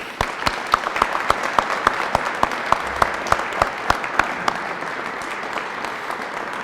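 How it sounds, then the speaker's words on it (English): Applause at a state lifesaving awards ceremony honoring heroic Iowans, heard as sharp, separate claps at a fairly regular pace over a soft room background, suggesting a thin crowd rather than a roaring ovation. "please join me in one final big round of applause for these heroic Iowans"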